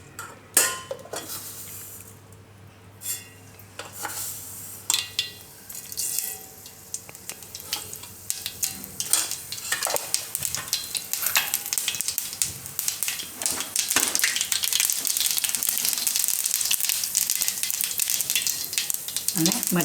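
Mustard seeds hitting hot oil for a Gujarati cucumber dish, a crackling sizzle and popping that builds and grows louder toward the end, with a few clinks of utensils earlier.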